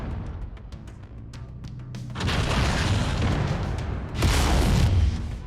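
Heavy booming blasts from a mech's center torso being destroyed in the PC game MechWarrior 5 Mercenaries, a sustained rumbling roar that swells twice, loud and close with no talk.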